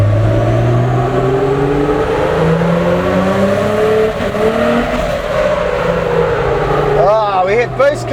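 Nissan Patrol with an RB30DET engine revving hard on a dyno, a loud rising engine roar held high, then cutting and stuttering as boost cut hits near the end.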